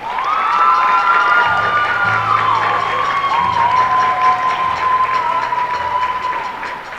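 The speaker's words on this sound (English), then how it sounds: "Ms. Eichenberger, let's give her a huge round of applause." A large crowd at a high school spring band concert claps and cheers loudly, with whoops and high shouts over sustained applause.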